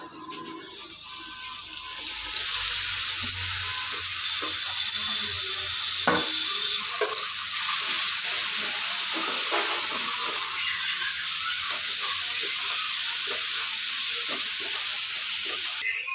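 Beetroot pieces frying in a pan with onion and chili, a steady close sizzle that swells after a couple of seconds and carries on with light stirring clatter, no voices.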